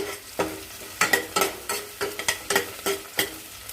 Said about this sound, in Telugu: బిర్యానీ ఆకు యాలక్కాయ లవంగా దాల్చిన చెక్క వేసి వేయించేస్తాను